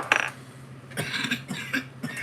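A person coughs several times in short, harsh bursts, close and fairly loud, with brief gaps between them.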